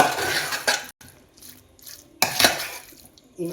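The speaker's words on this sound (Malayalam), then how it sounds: "അപ്പം അതോടെ ഇട്ടൊന്ന് ഇളക്കി കൊടുക്കാം." Spoon stirring raw mango pickle with asafoetida powder in a pan, close, with irregular scraping and clinking strokes separated by short pauses, no talk.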